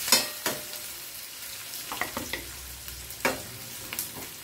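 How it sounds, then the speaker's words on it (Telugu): Onion and curry leaves fry in a pan with a soft steady sizzle, broken by a few sharp clinks and stirring knocks, close and with no talk. "ఉల్లిపాయ, కరివేపాకు, బాగా కొంచెం వేగిన తర్వాత"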